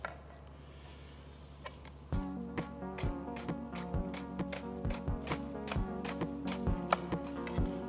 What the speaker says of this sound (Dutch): Voilà, onze prei is gesneden.